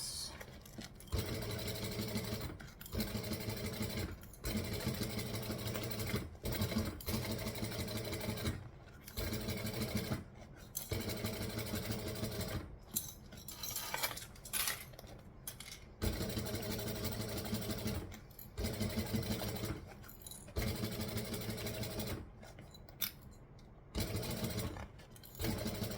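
A sewing machine stitching a backstitch, quiet mechanical whirring in bursts of a second or two, broken by frequent short pauses throughout.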